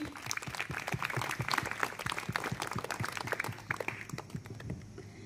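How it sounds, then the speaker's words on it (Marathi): Audience at a children's camp gathering applauding, a few seconds of dense, irregular hand clapping close by that gradually thins toward the end. "टाळ्या वाजवा सगळ्यांनी"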